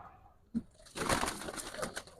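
A pigeon from a fancier's flock, among high-flyer birds, gives a short soft sound followed by a brief rustling burst, close and quiet.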